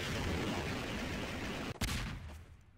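A rocket fires in a wasteland video game, a sudden sharp blast cutting through a rumbling background, followed by a short burst and a fading tail.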